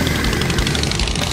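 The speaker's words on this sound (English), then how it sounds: "this is a Harley Davidson engine, so you do know it's a V-twin" A 2008 Harley-Davidson Softail Deluxe V-twin engine with straight pipes idles up close with a steady, rough, throbbing rumble and no talking.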